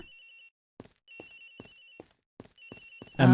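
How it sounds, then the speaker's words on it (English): Phone ringing in the video game Ace Attorney Investigations, a repeating electronic trill in three bursts with soft tapping pulses between, ending in a louder clatter. "Agent Hicks' phone! It's ringing from somewhere, sir!"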